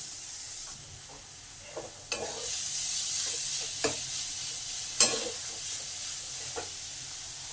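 Shredded rohu fish stirred into spiced masala in a pan, a steady close sizzle with a few sharp scraping stirs of the spoon at intervals.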